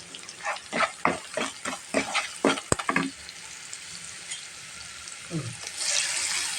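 A paste of turmeric, chilli, coriander and garlic sizzles and scrapes as it is stirred in a pan, short rhythmic strokes at first, then a softer steady fry with a sharp clink.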